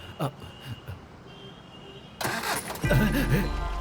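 A vehicle engine cranks and catches after a faint rustle of movement, then settles into a loud, steady low idle close by.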